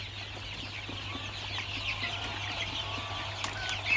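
Local chickens cluck softly and intermittently nearby during a monsoon-season day, faint and scattered over a steady low background hum.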